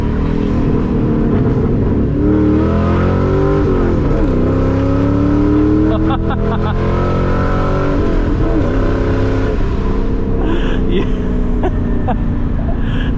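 A Ford Mustang GT with the 2V V8 revs hard through first gear on a race track, a loud continuous engine note with rising pitch sweeps and a gear change, with people talking over it.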